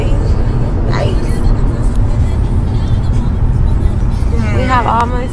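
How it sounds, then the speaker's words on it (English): A car drives along a road on a long trip from Dallas to Los Angeles, its steady interior road rumble and engine hum continuous beneath people talking. "We're really driving."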